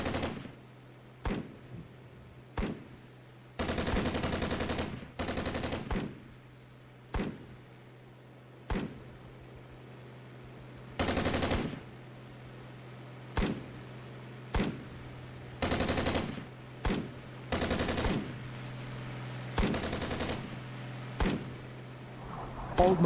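Repeated bursts of gunfire in the wargame Armored Brigade 2, with short sharp single shots and longer sustained automatic volleys over a steady low hum, spread irregularly and at moderate distance.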